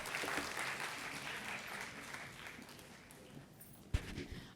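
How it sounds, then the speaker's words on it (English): Audience applause at an awards ceremony honouring schools, a soft, fairly distant wash of clapping that fades gradually, ending with a single sharp thump near the end. "A round of applause for her, please."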